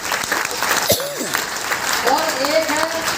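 Enthusiastic applause from an audience at a business plan presentation, steady clapping filling the room for about three seconds while a voice speaks over it.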